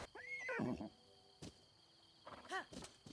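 A horse in the video game Zelda Breath of the Wild whinnies in a rising, wavering call, followed by softer snorts and another short neigh, with game ambience underneath.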